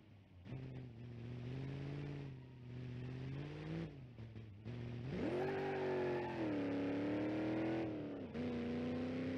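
Simulated car in BeamNG.drive with a slipping transmission at low RPM, engine droning and rising in pitch as it accelerates, revs surging and dropping unevenly in repeated bursts without any voices.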